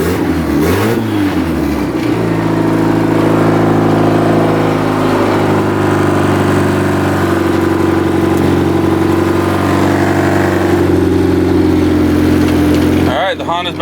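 A Honda engine, running again after its fuel pump was replaced, idles with a steady mid-pitched drone and a slight rattle, loud and continuous throughout, with a brief cough at the start and a sharp noise at the end.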